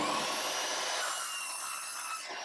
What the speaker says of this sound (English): I cut it in half on my miter saw